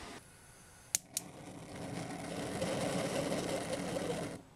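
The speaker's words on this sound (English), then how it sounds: "when I reinstall the new burner, it should light easily with the built-in electric igniter" A gas grill's built-in electric igniter lighting a newly installed replacement burner: two sharp, close clicks, then a steady rushing whoosh as the flame catches and keeps burning for a few seconds before cutting off.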